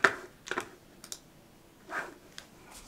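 Someone types on a computer keyboard in short bursts of close, crisp key clicks separated by pauses, with no voices.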